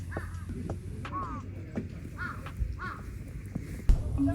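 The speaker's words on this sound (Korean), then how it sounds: "이 눈 속에서도 까마귀들은 여전히 울고 있었고" Crows caw in heavy snow in Sapporo, Japan: a handful of hoarse calls at moderate distance over a soft outdoor hush, with a few scattered knocks.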